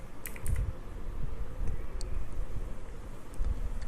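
Typing on a computer keyboard produces a soft patter of keystrokes under a low rumbling background.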